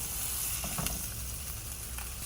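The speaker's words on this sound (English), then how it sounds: "You need to hear that sizzle." Whole scored flounder coated in breadcrumbs sizzles steadily in a hot frying pan, a dense continuous crackle and hiss with occasional pops, close and fairly quiet, with no talking.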